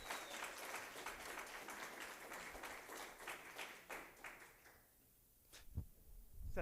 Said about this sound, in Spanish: Así que por favor un aplauso para el maestro Telémaco